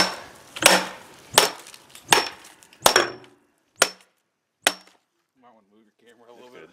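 Six sharp, loud whacks strike a compact handheld vacuum cleaner in an uneven rhythm as someone tries to break it, with a short stretch of quieter talk afterward.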